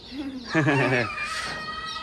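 Free-range desi country chickens clucking at a poultry farm, a short run of close, throaty calls at moderate volume over faint background noise.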